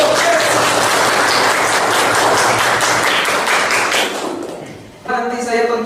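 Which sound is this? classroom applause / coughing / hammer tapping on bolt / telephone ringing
classroom applause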